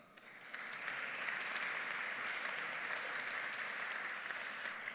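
Steady audience applause from a seated crowd welcoming guests at a panel talk on retention strategies, building quickly and holding at an even, dense level throughout without speech.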